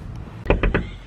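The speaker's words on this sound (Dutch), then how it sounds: "Even op het raam kloppen." Three quick knocks on a car window, close and sharp and evenly spaced, over a low background rumble.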